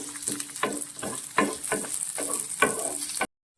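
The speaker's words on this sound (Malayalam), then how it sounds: "പിന്നെ നമ്മൾ ഈ ക്യൂബ്സ് ആയിട്ട് അരിഞ്ഞിരിക്കുന്ന ഒനിയൻ നമ്മൾ ചേർക്കുവാണ്. ഇത് നന്നായിട്ട് വഴണ്ട് വരട്ടെ." Cubed onions sauté in a hot pan with a constant frying hiss, broken by regular scraping stirs about every half second, then the sound cuts off abruptly; no talking.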